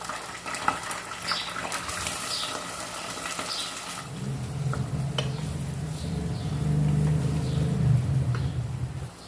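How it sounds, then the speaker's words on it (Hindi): Eggplant pieces fry in hot oil in a pan with a steady sizzle, which swells into a louder, fuller hiss partway through. "अब हम बैंगन फ्राई करेंगे।"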